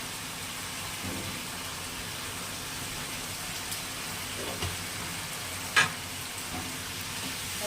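Chicken patty filling with cinnamon, cardamom and pepper powder frying in a pan while being stirred, a soft even sizzle with occasional light scrapes and one sharper clink near the middle.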